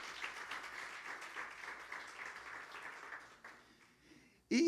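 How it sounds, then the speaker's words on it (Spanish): A church congregation applauds together in a sustained burst of many hands, steady and moderately loud before thinning toward the end, then cut off by a sudden loud noise. "Un aplauso al Señor Jesucristo."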